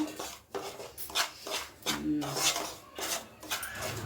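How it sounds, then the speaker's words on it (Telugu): Semolina (rava) roasting in ghee as a spoon scrapes and stirs it around a metal pan for cashew upma, giving repeated rasping strokes with brief clinks, close up. "ఇలా నెయ్యిలో వేయించుకోవాలి"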